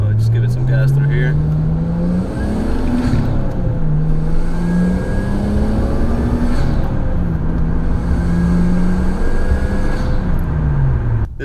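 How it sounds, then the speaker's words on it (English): A Nissan Stagea RS Four S turbo wagon accelerating under load, its engine droning loud and close with a rising turbo whine and short blow-off valve bursts between gear pulls. "So you do hear all those nice turbo sounds, and you get to hear the blow-off valve."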